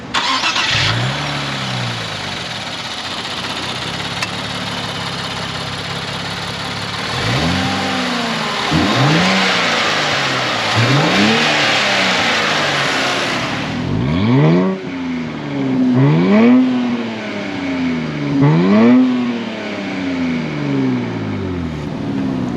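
A 2024 Nissan Z Nismo starts up and settles into a steady idle. It then sends out repeated sharp rev blips that rise and fall in a loud rhythmic series close by, with no voices.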